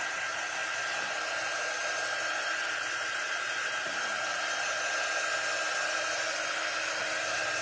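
A hair dryer blows steadily and loudly on a Halloween door decoration craft, a continuous broadband whoosh with no pauses and no talking.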